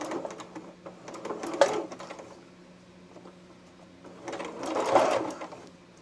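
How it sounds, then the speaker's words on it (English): A sewing machine zigzag-stitches onto the seam allowance of a romper neckline in two bursts of rapid mechanical chatter, one around the middle and a longer one toward the end, close and clear. "I'm going to just zigzag this onto the seam allowance"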